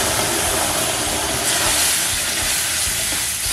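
Tomato, garlic and onion paste fries loudly with roasted gram flour in hot oil for a moth kachori filling, a steady, close, broadband sizzle that hisses continuously throughout with no voices.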